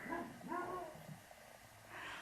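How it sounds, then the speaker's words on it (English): A dog on a balcony barks and yips in a few quick bursts, fairly faint and somewhat distant, over low background noise. "He is barking at whatever is walking past by."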